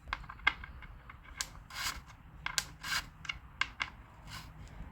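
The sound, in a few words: wrench tightening slug on 1969 Norton Commando primary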